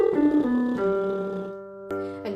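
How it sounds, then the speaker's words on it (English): A singer does a lip-buzz warmup arpeggio, a buzzy voiced tone stepping down through several pitches and then holding, followed by a fresh onset near the end, with no speech. "So let's do this on a lip buzz"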